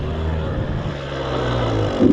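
A dirt bike's engine drones steadily in third gear, a continuous close rumble that holds even with no shifting, roughening slightly at the end, with no talking over it.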